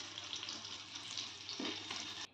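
Paneer cubes sizzling in hot oil in a home kitchen, a close, steady crackle with a brief stir of the pan before it cuts off; no voices.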